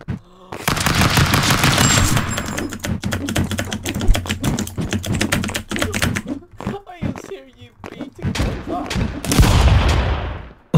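Rapid bursts of gunfire in the Stick Fight video game crackle in fast, dense volleys with brief gaps between them, while excited voices talk loudly over the shooting.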